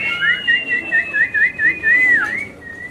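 Piercing whistling from the audience at a beauty pageant, a rapid warbling series of shrill notes ending in one long held tone, loud and close.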